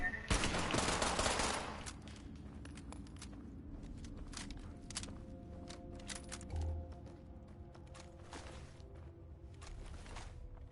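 Gunfire at an enemy in Fallout 76, with rapid bursts of shots that start with a heavy volley and continue as scattered cracks through the rest, over low game ambience.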